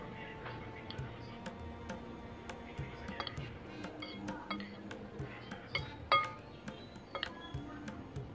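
Instant noodle mixture is stirred in a pot or bowl, giving sparse, irregular clinks and ticks of a utensil against the vessel, quiet and close, with one sharper knock near the end.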